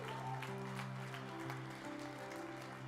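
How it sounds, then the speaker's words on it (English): A church congregation applauds baptism candidates at a Sunday service, a steady wash of clapping over sustained tones. "So can we give them a round of applause right now as they make their way to the baptism tank?"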